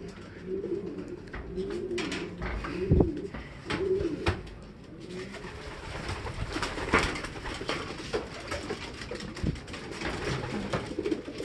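Racing pigeon hens coo repeatedly in a loft on race loading day, soft rolling calls layered over a steady murmur of other birds, fairly close and continuous.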